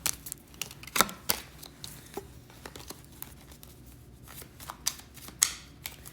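Tarot cards are shuffled by hand in a quiet room, giving irregular papery riffles, slaps and crinkles in short bursts, fairly close and soft, with no talking.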